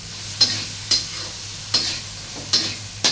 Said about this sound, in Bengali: মাছটা ভাজা ভাজা হয়ে আসলে